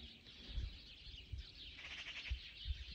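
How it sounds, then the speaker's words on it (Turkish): Faint chirps and tweets of birds outdoors, distant and quiet, scattered over a soft background hum with no one talking. "Kuş sesi."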